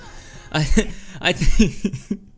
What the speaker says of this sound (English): God, this cough.